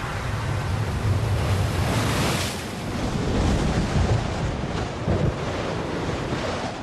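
The Red Sea surging, with broad continuous roar of water and waves rolling loudly throughout, mixed with wind rumble and no voices.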